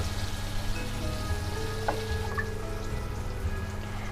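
Onions frying in a pan over a medium gas flame, a steady, quiet sizzle that runs continuously with faint clinks from the pan and no voices.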